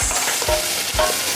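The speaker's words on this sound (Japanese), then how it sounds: "ニンニクと生姜を炒めます" Garlic and ginger frying in salad oil in a pot, a steady loud sizzle with stirring scrapes at a regular pace, close and alone.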